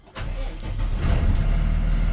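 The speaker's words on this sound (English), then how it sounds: "I can start the engine, it's in safe start." A Thomas C2 Conventional school bus engine cranks and catches, then settles into a steady, loud, low rumbling idle heard up close with no talk.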